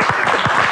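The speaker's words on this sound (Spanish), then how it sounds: "le mandamos un abrazo y un aplauso a Emilio Dizzi" A studio audience on an Argentine TV show gives a short, close burst of clapping that is loud and lasts under a second.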